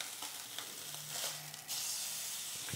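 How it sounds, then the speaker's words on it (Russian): Steak sears in a pan without a non-stick coating, giving a loud, steady, close sizzle and hiss with small crackling pops throughout and no voices. "Обжариваю со всех сторон."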